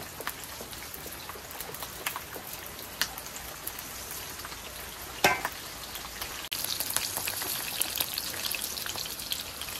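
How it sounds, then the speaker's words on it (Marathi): Steady crackling sizzle of chillies and then onions frying in a pan, with scattered pops and a brief clatter midway; the frying grows a little louder toward the end. "मस्तपैकी मिरची तडतडली तर मग कांदे टाकतोय."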